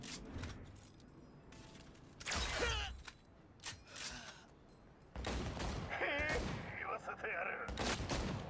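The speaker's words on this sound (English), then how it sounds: "Who the hell is shooting?" Bursts of gunfire in the video game Cyberpunk 2077 Phantom Liberty, loud broadband volleys around two and five seconds in, followed by sustained clattering fire through the rest, mixed with mechanical clanks and game effects.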